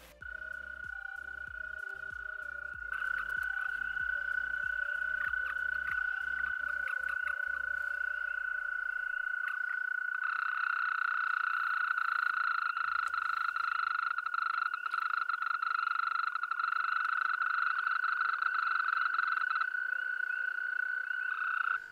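American toads give a continuous high, musical trill, loud and unbroken for the whole stretch. A second overlapping trill joins partway through, and faint clicks and low thumps sit underneath.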